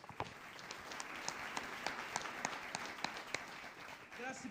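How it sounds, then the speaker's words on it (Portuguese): Faint applause from a church congregation during a worship service, steady scattered clapping lasting several seconds at a distance. "Uma salva de palmas para Jesus"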